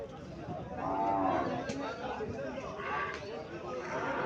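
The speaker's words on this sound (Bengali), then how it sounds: "এখানে আরো একটা গাভী দেখা যাচ্ছে।" A cow at a busy cattle market in Comilla gives a single drawn-out moo, heard over the steady chatter and hubbub of people nearby.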